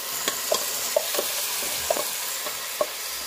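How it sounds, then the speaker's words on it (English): Rice is stirred in a pan for tomato rice, with a utensil clicking and scraping in an irregular rhythm over a continuous close sizzle. "We put our rice. Stir all together."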